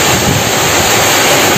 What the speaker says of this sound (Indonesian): Hujan angin ini.